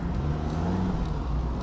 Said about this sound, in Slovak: Za mnou sú nejaké autá, dobre.